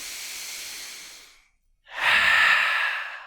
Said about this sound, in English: let's go ahead and energize this picture with 3 ha breaths